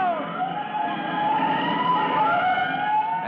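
A fire engine siren wails across town, a steady rising and falling tone heard from a distance that holds at an even level and never cuts out.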